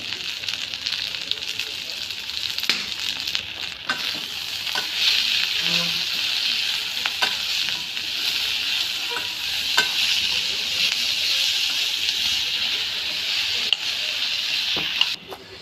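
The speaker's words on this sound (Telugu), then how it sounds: "ఇంకా కొద్దిగా అయితే వేగాలి ఆనియన్స్." Onions sizzle steadily in a pan while a spatula stirs them now and then, giving a dense, continuous hiss with occasional scrapes that stays close and even throughout.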